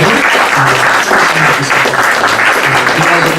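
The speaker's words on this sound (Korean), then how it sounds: "여러분 박수로 좀 새로운 감사를" Dense, steady applause from a large church congregation fills the room at high volume throughout, with a voice faintly audible underneath.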